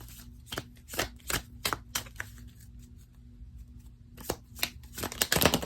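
Tarot cards shuffled by hand in close, crisp bursts of riffling and snapping, coming in irregular clusters with brief pauses between them and a louder flurry at the end.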